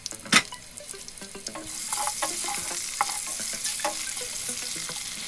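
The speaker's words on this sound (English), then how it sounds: "Put oil in the pan and put the onion into the pan." Onion frying in oil in a pan gives a steady close sizzle that swells after an opening clatter, with scraping and stirring noises running through it.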